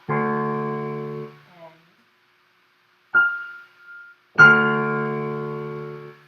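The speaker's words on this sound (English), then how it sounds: "So you've got this very low D and then a very high F together." Two sustained musical chords, each spanning a very low D up to a very high F with notes in between, sound clearly alone, separated by a pause in which a brief high tone rings.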